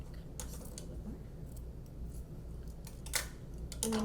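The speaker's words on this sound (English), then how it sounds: "you can use your scissors to round out the top of them to make them ear-shaped" Scissors cut fabric from a sock into rounded plush-toy ears, giving a few crisp, close snips spaced apart over a steady background hiss, with no talk.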